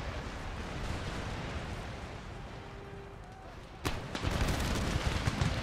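Artillery and musket volleys in the Total War: Empire strategy game, a low rumbling battle din that breaks into a loud burst of firing near the end, with a voice over it.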